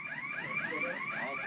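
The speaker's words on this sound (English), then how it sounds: "the fire alarm in this place?" A building's fire alarm blares in a loud, piercing, warbling tone that sweeps up and down repeatedly, close and with nothing else over it.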